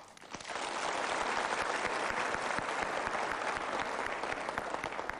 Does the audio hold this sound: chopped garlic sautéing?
no